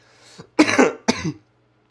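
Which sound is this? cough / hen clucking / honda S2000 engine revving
cough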